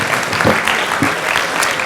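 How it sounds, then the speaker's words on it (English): At an annual day event for a Chinmaya community, an audience applauds the puja team, a steady wash of many hands clapping together throughout the short stretch. "give a big round of applause for the puja team"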